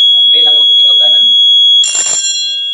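A fire alarm bell rings with a steady, piercing electronic tone throughout, loud and close, over a Novec 5 suppression system with smoke detectors; a person talks over the first part before a burst of noise.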